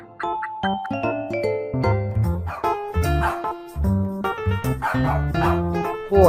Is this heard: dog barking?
yes